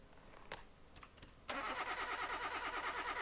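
Formula 1 V8 engine being cranked for a compression test on an old wreck under restoration: a few short clicks, then a steady rhythmic whirring crank that carries on at moderate loudness, with no speech.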